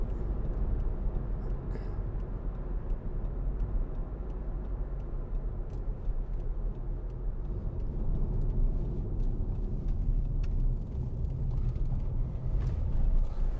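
Hyundai ix35 2.0 CRDi diesel SUV cruising on a road, a steady low rumble of engine and tyre noise from inside the cabin with faint ticking clicks scattered throughout.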